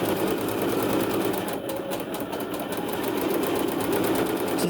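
Home sewing machine running a steady straight stitch down a small piece of fabric, a continuous close whirring hum with fast regular needle ticking throughout, no voices.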